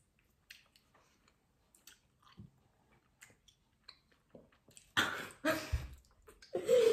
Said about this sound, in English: You chew them.